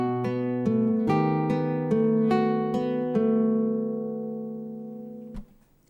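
Nylon-string classical guitar picked with rest strokes through a measure of the 'Romance' study, roughly eight evenly spaced plucked notes ringing over a sustained bass, close up and unaccompanied, then decaying into a soft release.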